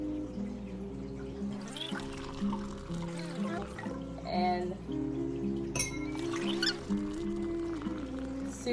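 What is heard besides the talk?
opening and pouring fizzy homemade kombucha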